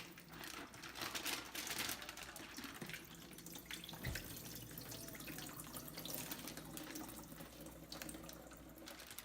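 Faint cold running water pours steadily into a bag holding deer meat, a soft continuous splashing rush with occasional small knocks, no voices.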